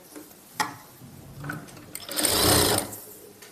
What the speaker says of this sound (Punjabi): ਇਦਾਂ ਫੋਲਡ ਜਿਹਾ ਕਰਕੇ ਸਿਲਾਈ ਲਾ ਲੂੰਗੀ ਤਾਂ ਜੋ ਇਹਦੇ ਧਾਗੇ ਵਗੈਰਾ ਨਾ ਨਿਕਲਣ